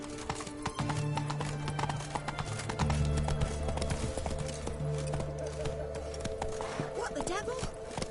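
Roach, a horse in the video game The Witcher 3, trotting with steady clip-clop hoofbeats under a sustained musical score and some ambient game sound, with a voice speaking briefly.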